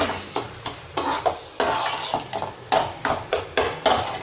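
Pots, pans and dishes clattering in a home kitchen after washing up, with a quick series of sharp metallic clanks and knocks close by, no voices.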